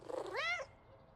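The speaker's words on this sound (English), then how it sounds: "I hear a cat." A cat in a Power Wash Simulator 2 game gives one short, fairly quiet meow that rises and then falls. A faint background hum runs beneath it.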